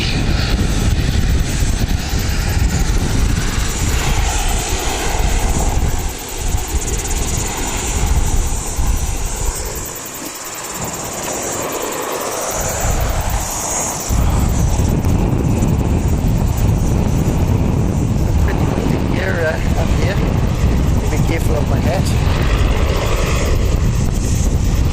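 Airliner at Wellington Airport: a loud, sustained engine roar with wind buffeting, dipping briefly in the middle before swelling again, close and continuous.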